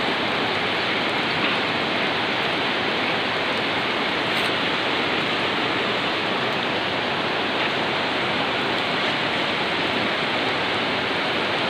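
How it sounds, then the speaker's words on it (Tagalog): Heavy rain pours in a constant, loud broadband roar that stays unchanged throughout with no voices or breaks. "grabing ulan"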